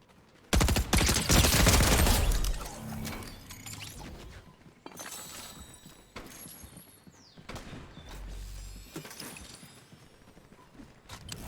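A video-game gun fires in a loud burst of rapid shots, then trails off into scattered shots, clicks and mechanical handling sounds at lower volume.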